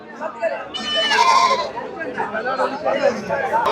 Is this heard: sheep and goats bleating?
yes